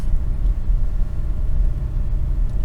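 Car engine and tyre rumble from inside a moving car on a British road, heading toward a petrol station; a steady, continuous low drone with no talking.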